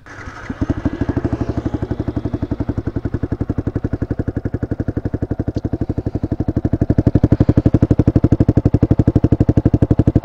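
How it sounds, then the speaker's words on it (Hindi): A Yamaha R15 V2 motorcycle with an Akrapovic aftermarket exhaust starts and idles with a deep, loud, rapid thumping exhaust, the pulses steady and rising slightly in intensity toward the end. "स्टार्ट करके इसका साउंड सुना देता हूँ"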